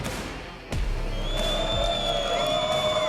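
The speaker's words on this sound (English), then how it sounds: "Who in this crowd is hyped?" Crowd at a PUBG Classic esports tournament arena cheers and whoops, a sudden swell of sustained roaring noise with shouts rising over a steady din.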